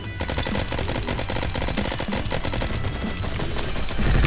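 Rapid, sustained automatic gunfire rattles without pause, loud and dense, with the punchy, processed sound of the Roblox shooter Bad Business.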